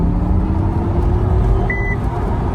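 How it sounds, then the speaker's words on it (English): Warning beeps from a modern car sound over a loud, steady cabin and road rumble, with a single short tone near the end standing out above the engine drone. "This is the thing with modern cars. They beep to tell you everything"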